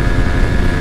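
A Yamaha MT 15 V2 motorcycle runs in fifth gear on a bumpy road, its engine giving a loud, steady droning hum with constant wind rush and no break for the whole short stretch.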